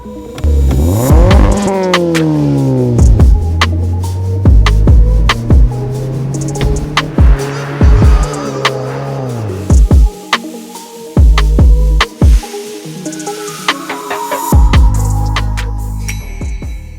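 A 2015 Mazda 6 with a Corksport axleback exhaust cold starting: a loud crank catching into a revving engine, then repeated throttle blips rising and falling against a steady high idle, no talking.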